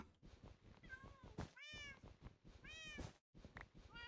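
Cat meows from the Minecraft video game, version 1.19.3: two or three clear rising-falling meows, close and fairly loud, with quiet background noise between them.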